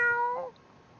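A single short, high kitten meow from the video game Choices: Stories You Play, clear and close, falling in pitch and fading within half a second.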